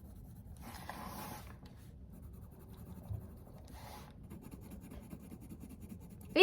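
A Crayola Colors of the World felt marker rubs across paper during coloring, giving two faint, short scratchy strokes separated by near silence.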